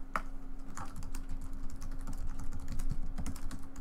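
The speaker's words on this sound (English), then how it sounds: "I'll type a message in real quick." Computer keyboard typing a chat message during a Kerbal Space Program stream, quick irregular clicking keystrokes close by over a steady low hum, no speech.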